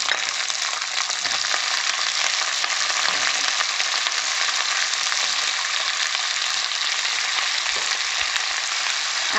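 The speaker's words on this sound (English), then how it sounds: "add the potatoes and fry." Potatoes fry with garlic and chilli in a hot pan for an aloo methi dish, a continuous bright sizzle with occasional stirring scrapes, steady and close.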